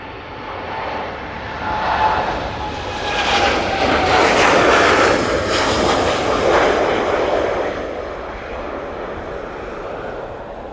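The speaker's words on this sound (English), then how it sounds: "that 787-9 Dreamliner is off to Montego Bay" A TUI Boeing 787-9 Dreamliner takes off from Manchester Airport for Montego Bay. Its engine roar builds to a broad, loud rumble and then eases off, heard alone without talk.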